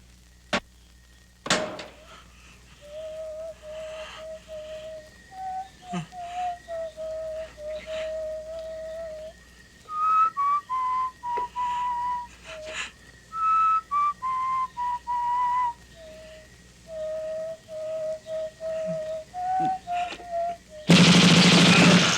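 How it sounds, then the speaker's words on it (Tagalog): Someone whistles a slow, wavering tune up close, in long held notes that rise and fall, with a few sharp knocks in the background. "Hindi ko kursunada ang tunog ng sipol nun."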